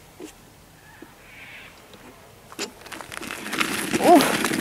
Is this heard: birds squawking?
yes